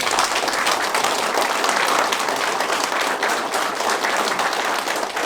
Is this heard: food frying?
no